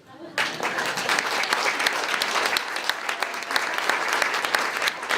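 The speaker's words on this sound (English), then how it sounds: "Thank you so much for the standing ovation." A standing ovation at a startup demo day bursts in after a brief quiet start, dense clapping holding steady and loud for the rest of the moment, with a voice faintly under it.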